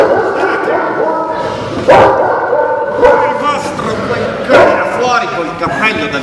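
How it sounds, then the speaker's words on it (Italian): A dog barks in short bursts, three or four times, during a live Italian stage comedy, mixed in with actors talking and audience noise. "Come simpatico quel cane, come si chiama?"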